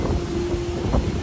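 Gusting wind buffets a microphone outdoors near a shore on a hot, windy day. Low, steady rumble with a faint hum, no voices.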